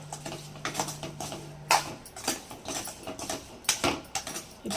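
A spoon stirs dried mango pieces through oil in a pan for mango pickle, giving irregular close clinks and scrapes of metal against the vessel with a faint steady hum underneath.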